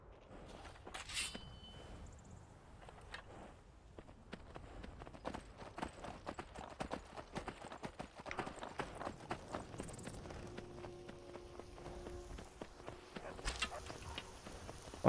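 Horse hooves clip-clopping while riding in Skyrim VR, a quiet, steady run of soft hoofbeats with a few sharper knocks and faint game sounds around them.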